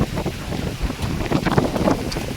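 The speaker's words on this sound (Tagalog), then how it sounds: "Lakas po ng hangin dito sa amin, tabing ilog po kasi." Strong typhoon wind gusts roar and buffet the microphone beside a river near the sea, a constant rough rushing with irregular thumps.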